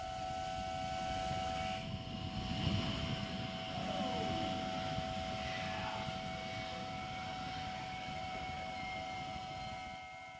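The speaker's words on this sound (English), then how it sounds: "let's watch and listen as the New Shepard goes through its final checks and revs up for 6th human flight" The Blue Origin New Shepard rocket on its launch pad gives off a distant, steady roar with a high tonal whine over low rumble, spooling and shifting slightly in pitch for about ten seconds, fairly faint.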